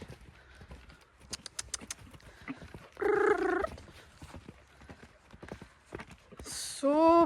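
A horse's hooves clip-clop in a steady rhythm as it is lunged over poles. The footfalls are close and clear, with a trainer's brief vocal calls breaking in between them.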